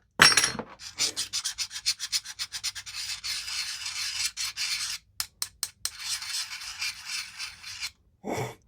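A knife scratches across a surface in a quick series of short rasping strokes, some close together and some spaced apart, with brief pauses between bursts.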